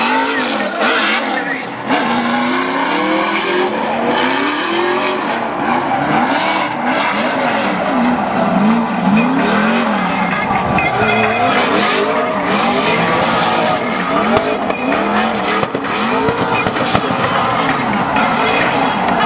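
At a Riyadh drift event, a drift car's engine revs and wails continuously while its Nitto NT555 tires squeal through long slides, loud and close throughout.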